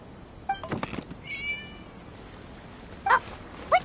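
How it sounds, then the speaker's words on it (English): Cat in Genshin Impact gives a short meow, then a pause and two more brief, clear meows near the end, over a quiet ambient background. "It was just a cat."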